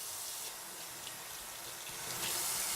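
Running tap water splashing steadily while hair extensions are rinsed in a sink, a bright hissing stream that grows slightly louder toward the end, with no talking.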